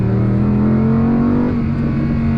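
A 2024 Audi R8 sports car engine holds a strong, steady rev with a deep throaty drone, close and loud throughout, no voices.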